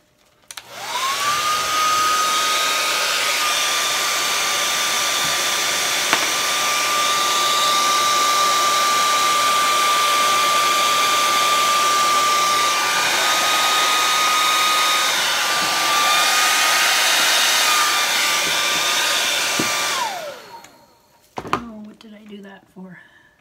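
A hair dryer blows over an acrylic Dutch pour painting, a loud, steady whirring rush with a constant whine that holds for about twenty seconds before switching off, followed by brief handling noises.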